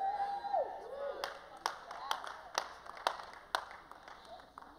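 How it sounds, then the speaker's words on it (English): Scattered audience clapping in a church, a handful of sharp, separate claps and short bursts spread across a few seconds over a faint crowd murmur and room noise. "Now you're all clapping."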